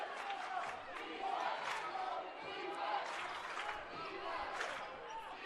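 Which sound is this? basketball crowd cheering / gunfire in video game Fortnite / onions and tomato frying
basketball crowd cheering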